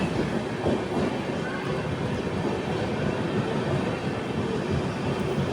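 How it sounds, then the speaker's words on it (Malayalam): The Punjab Mail pulls away from a platform on the West Central Railway, a steady close rumble of heavy wheels and carriages with faint rhythmic clatter that stays even and unbroken throughout. "പഞ്ചാബ് മെയിൽ ഇപ്പോൾ എടുത്ത് പോയതേ ഉള്ളൂ"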